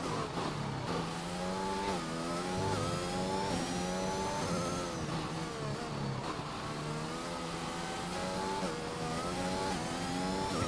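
A McLaren race car in a racing video game revs and accelerates steadily, its engine note climbing and shifting through gears in a continuous loud drone with no talk over it.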